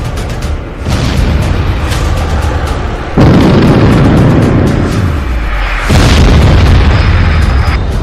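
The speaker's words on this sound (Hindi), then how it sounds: "पुतिन की तरफ से ट्रिपल अटैक में स्टॉर्म शैडो मिसाइल के गोदाम उड़ा दिए गए।" Heavy explosions at a Storm Shadow missile storage depot in Ukraine, a sustained loud rumbling roar with repeated booming surges and crackling bursts, no talk.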